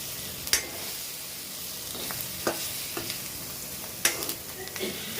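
Egg fry with coriander leaves being stirred in a pan, soft sizzling with several distinct, spaced scraping knocks of the spatula, close by.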